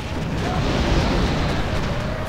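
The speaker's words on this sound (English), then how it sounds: "Fire quantum cannons." Dense, continuous rumbling booms of heavy cannon fire in the Windows remake of Sid Meier's Pirates fill the whole stretch, loud and sustained with a low roar throughout.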